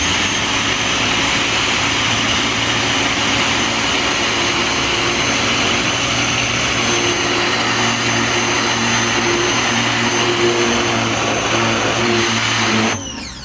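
A Ryobi 1600 PSI electric pressure washer sprays steadily from about three feet away onto melted plastic. It makes a loud, continuous whining roar that holds for roughly thirteen seconds and then cuts off abruptly.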